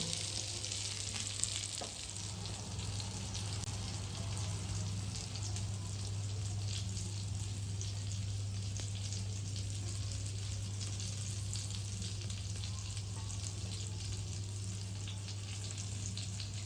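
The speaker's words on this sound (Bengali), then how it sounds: "দেখো বন্ধুরা, আমার কাবাবটা কিন্তু ভাজা হয়ে গেছে" Chicken kebabs fry in ghee with a soft, steady sizzle and crackle, faint but continuous throughout, with no talk over it.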